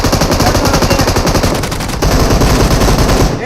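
Automatic rifle fire rattles in rapid, rhythmic bursts during a PUBG Mobile match, loud and close, with a brief dip before the shooting resumes at full intensity.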